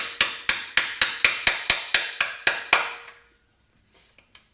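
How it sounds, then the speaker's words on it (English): Ten sharp metallic taps of a metal hammer knocking out metal pins in an even rhythm, each ringing briefly, then silence with a couple of faint small clicks. "we took a metal hammer and we're just going to tap these guys right out."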